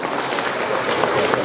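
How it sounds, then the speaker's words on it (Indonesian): Applause from an audience at an Indonesian farewell ceremony, a dense steady wash of many hands clapping throughout, fairly loud with no clear break. "Tepuk tangan untuk Aceh Timur."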